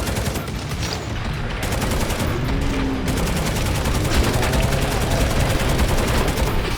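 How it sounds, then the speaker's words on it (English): The Heavy Stubber heavy machine gun in Necromunda: Hired Gun fires a sustained, loud, rapid automatic burst with dense repeating shots and no pauses. "Heavy Stubber is your classic heavy machine gun style weapon"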